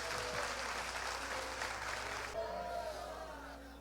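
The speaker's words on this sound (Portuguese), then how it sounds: "dando a Jesus uma linda salva de palmas" Church congregation clapping for Jesus during a sermon, a dense round of applause that carries on steadily and then thins out and fades toward the end, with a faint tonal hum underneath.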